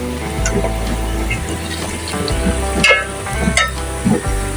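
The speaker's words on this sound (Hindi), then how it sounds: "1 टीस्पून साबुत जीरा, इसको क्रैकर कर लेंगे हम" Whole cumin seeds crackle and sizzle in hot oil with lightly browned onions in a pan, a steady close frying hiss with scattered sharper pops, preparing a lauki chana dal.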